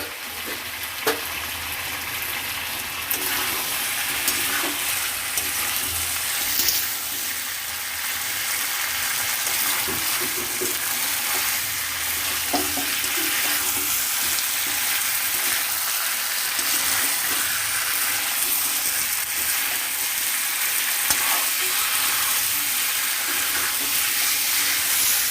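Chicken and potatoes sizzle and fry in a pan, a constant bright crackle broken by occasional scraping stirs, close and alone without voices.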